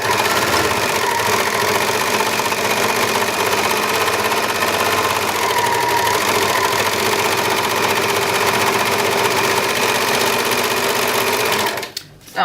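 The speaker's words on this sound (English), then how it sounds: "starting at the facing end, overlock these seams together" An overlocker hums loud and steady as it stitches the side seams of a dress together, running nonstop for about twelve seconds before it suddenly stops. No voices are heard.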